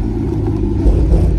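A Chevrolet Camaro ZL1 at a car meet gives off a loud, close engine rumble that swells near the end as it revs, with no voices over it.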